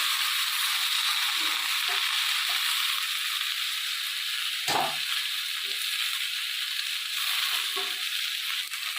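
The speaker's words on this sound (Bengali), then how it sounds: "বাঁধাকপিটা আমি ভালো করে একটু ভেজে নেবো" Cabbage frying in a pan with already fried potatoes, a steady bright sizzle throughout, with occasional stirring scrapes and a single louder clunk near the middle.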